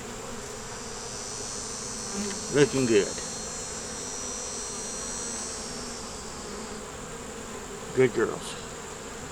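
A steady, close drone of honey bees fills an open hive box holding frames of nectar and honey, continuous throughout, with brief spoken remarks from a beekeeper twice breaking over it.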